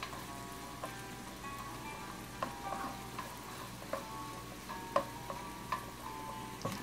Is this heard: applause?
no